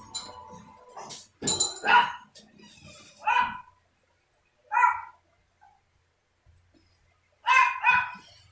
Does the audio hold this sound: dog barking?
yes